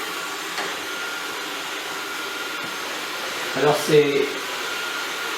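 Dreame D10 Plus Gen 2 robot vacuum running indoors, a steady whirring suction drone throughout with a brief louder bump partway, while a voice speaks briefly over it.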